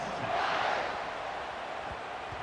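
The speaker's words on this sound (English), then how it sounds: "this crowd is buzzing after that last score" Stadium crowd noise in College Football 26 as the kicking team lines up after a score: a steady, dense roar from a big crowd that holds at one level and never drops out.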